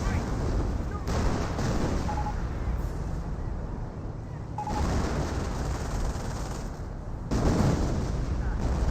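A creeping artillery barrage in Company of Heroes, with repeated heavy booms and blasts rolling over one another in a dense, continuous battlefield rumble.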